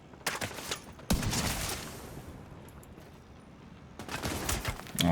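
Video game gunfire rings out while enemies are body-shot, with loud sharp bursts at the start, a heavier volley near one second that fades into a decaying tail, then another close burst near the end.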